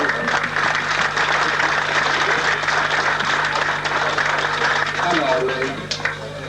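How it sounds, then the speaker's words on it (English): Steady, dense applause from a crowd at a husky race awards presentation honouring the race marshals, sustained for several seconds before tapering off, with a voice starting to speak near the end. "if we could just give a little round of applause, not quite so long, but for the marshals"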